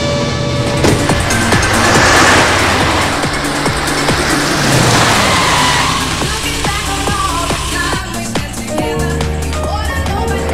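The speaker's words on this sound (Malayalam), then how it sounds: "വണ്ടി റിവേഴ്സ് വരികയാണോ?" A car's engine revs hard as it reverses, a dense, sustained mechanical roar with brief tyre-squeal sounds, close and loud with no talking.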